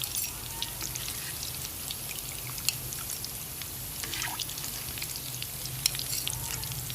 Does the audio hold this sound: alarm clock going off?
no